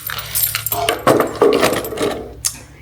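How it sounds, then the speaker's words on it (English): Keys jangle and clink in a series of light metallic rattles as they are set down on an entryway table, close by, with brief pauses between handlings. "Okay, I think I'll put the keys there."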